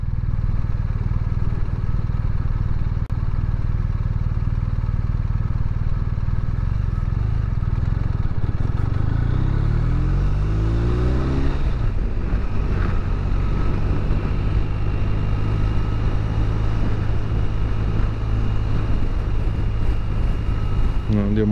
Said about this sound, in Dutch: Nou, die motor die zingt echt gewoon